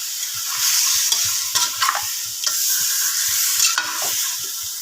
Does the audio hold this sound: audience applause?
no